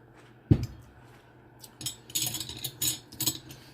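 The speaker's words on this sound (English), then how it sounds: "I'm just going to plop them in here." Onions plopped into a pot for French onion soup: one sharp thud-like drop near the start, followed by a run of clattering, clinking kitchen noises close by, no talk.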